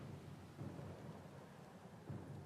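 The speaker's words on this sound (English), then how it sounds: "The storm's pretty loud." A storm at sea in the Pillars of Eternity 2: Deadfire video game, with heavy steady rain and low rolling thunder rumbling underneath, dense and continuous without talk.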